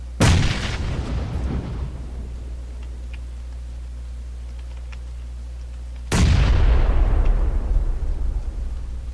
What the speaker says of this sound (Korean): 수류탄 있으면 까버려. 깠어.